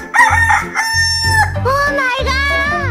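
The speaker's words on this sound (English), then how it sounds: "Chicken." A rooster crows in a children's animal cartoon, one loud drawn-out cock-a-doodle-doo over bright background music.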